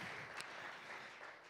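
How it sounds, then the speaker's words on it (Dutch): A church congregation applauds in a steady, diffuse wash of clapping that sounds distant and faint in a reverberant hall, lasting only a moment. "Geef de Heer een applaus."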